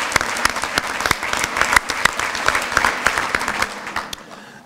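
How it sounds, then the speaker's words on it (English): An audience applauds essay contest winners at a program event, dense continuous clapping from many hands that holds steady and then tapers off at the end. "I think we should give the essay contest winners another round of applause."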